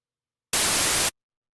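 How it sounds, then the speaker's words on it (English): White noise from Ableton Operator, recorded for a closed hi-hat sample: a single steady, loud hiss lasting about half a second, starting and stopping sharply with silence on either side. "let me just quickly record a little bit of that white noise over here"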